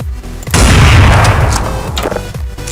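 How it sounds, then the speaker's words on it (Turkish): A single loud, close gunshot from Counter-Strike 1.6 bursts out and decays over about two seconds, with a few fainter clicks and thuds following. "Beyler bir mermi kaldı. Bu da bir kişi öldürecek."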